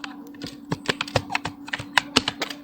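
Rapid typing of HTML code on a computer keyboard. The keystrokes are quick and closely spaced, with a low steady hum beneath them.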